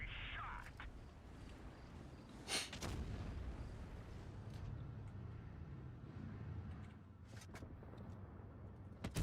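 Tank cannon shots in World of Tanks Blitz during an online match, a sharp loud blast near the middle with a few brief crackling reports later, over steady engine rumble and game noise while a player talks.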